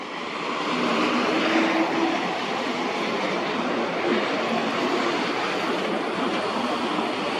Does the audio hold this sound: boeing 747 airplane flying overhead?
yes